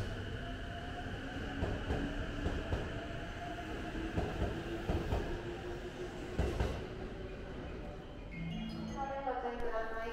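A 12-car Azusa limited express train rumbles into a Japanese station, steady rolling noise with squealing tones and clanks, a rising multi-tone signal near the end.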